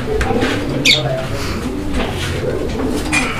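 Pigeons coo softly and repeatedly nearby, with a brief flutter of wings and low murmuring around them.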